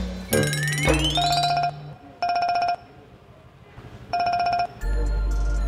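A telephone rings in repeated electronic bursts with short gaps, preceded by a rising tone and ending in a sustained buzz, fairly loud with no talk.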